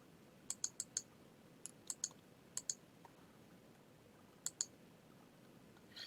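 Crisp mouse clicks land in small clusters of two or three, quiet and close against a faint steady room hiss, with no voices.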